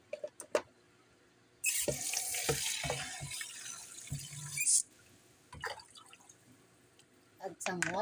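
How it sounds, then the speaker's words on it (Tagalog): Water runs from a tap into a pot holding ginger and turmeric, a steady splashing pour lasting a few seconds, framed by clinks and knocks of the pot before and after. "Add some water and put."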